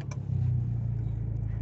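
An Abarth 595 engine catching and settling into a steady low idle rumble, close and fairly loud with no talk over it.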